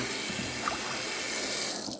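Kitchen tap water runs steadily into a sink while fish is rinsed, a continuous close splashing hiss that tapers slightly at the end, with no talk.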